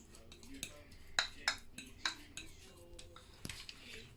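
A spoon stirs melted chocolate in a bowl for brownies, giving close, light clinks and scrapes against the bowl at an uneven pace, with a few sharper taps.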